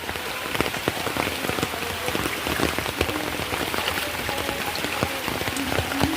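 Heavy rain pelts a surface nearby at a flooded house, a dense, steady patter of countless drops with occasional sharper splats.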